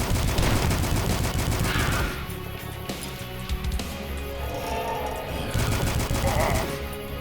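Rapid bursts of gunfire in the Until Dawn video game, dense and loud for the first two seconds, then sparser shots, with a heavy volley returning near the end.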